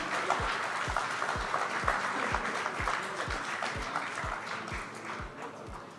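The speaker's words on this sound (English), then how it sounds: "A round of applause, ladies and gentlemen." Steady crowd applause at a leadership summit fills the clip, a dense wash of clapping hands with no voices, holding level and fading slightly toward the end.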